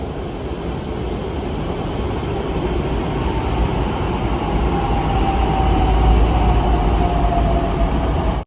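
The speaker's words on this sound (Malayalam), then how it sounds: "ഇത് പോകാനുള്ള മെട്രോ വരികയാണ്." A Pune Maha Metro train pulls into a station platform with a loud, steady rumble and rolling rail noise, plus a faint high whine late in the approach. No talking.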